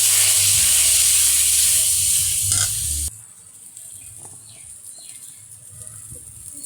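Spices for a Katla fish curry sizzle hard and loud in a hot pan, then the hiss drops off sharply partway through as water goes in, leaving a quieter, bubbling simmer.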